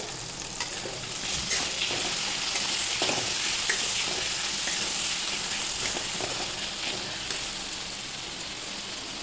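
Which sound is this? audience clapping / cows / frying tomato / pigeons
frying tomato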